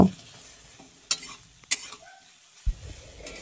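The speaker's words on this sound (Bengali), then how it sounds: "কড়ার মধ্যে সর্ষের তেল গরম করে বেগুনটাকে দিয়ে উপর থেকে অল্প স্বাদ মতো লবণ আর হলুদ দিয়ে আমি বেগুনটাকে ভালোভাবে ভেজে নেব।" Eggplant fries in hot mustard oil with salt and turmeric in a wok-like karai, a faint, thin sizzle punctuated by a few sharp metallic clinks and scrapes of a stirring utensil, close and quiet.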